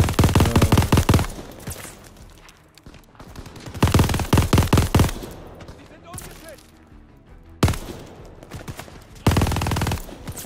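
Turret machine gun fire in the Call of Duty Vanguard PS5 campaign, several loud sustained bursts of rapid, evenly spaced shots separated by short pauses with echoing tails, a voice speaking briefly between bursts.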